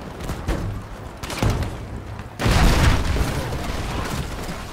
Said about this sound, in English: My building's getting destroyed.